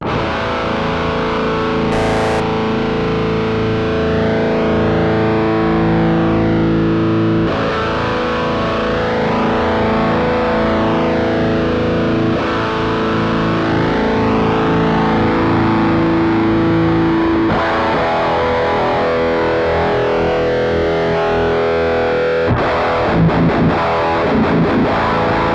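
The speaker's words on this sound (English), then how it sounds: "now if I roll in the cab sim, I'm going to roll it all the way up and back down so you can hear how it works with the sweep" Distorted electric guitar through a Horizon Devices Apex preamp, sustained chords ringing loud and close while a cab sim mic sweep rolls the tone up and back down several times, with faint scratchy noise near the end.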